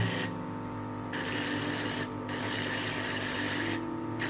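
An electric aquarium siphon vacuums fine dirt from a tank, a steady buzzing motor hum with a gurgling, rasping suction that pulses in and out at a regular rhythm.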